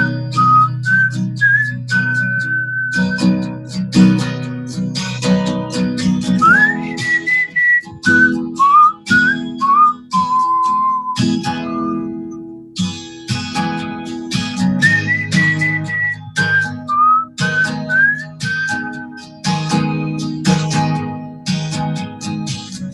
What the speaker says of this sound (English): The whistle part's cool.